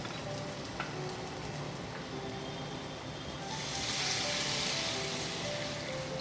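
Water is poured into a sizzling pan of hilsa fish curry seasoned with salt and turmeric. A steady frying hiss swells into a louder, rushing sizzle for a couple of seconds as the water hits the hot oil.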